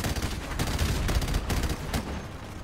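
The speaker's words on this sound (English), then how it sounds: "I'm gonna switch to the saw here" An M249 SAW machine gun fires continuously in the Call of Duty 4 campaign, a dense, rapid stream of loud shots, with a few sharper cracks standing out over the steady burst.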